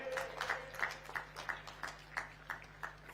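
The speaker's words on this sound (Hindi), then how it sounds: "तालियों के साथ स्वागत करेंगे" Scattered hand claps repeat in a loose rhythm, a modest round of applause from a small crowd welcoming a speaker at the Bastar Olympics closing ceremony, fairly quiet and steady throughout.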